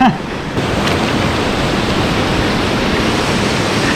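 Canding Falls in Barangay Maasin, San Clemente, Tarlac, pours in a loud, steady roar of rushing water that fills the whole span without a break.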